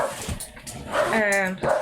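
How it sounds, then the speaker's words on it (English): A dog barks a few times close by, sharp yips and a drawn-out whining bark breaking up a person talking nearby. "you can hear the dog barking"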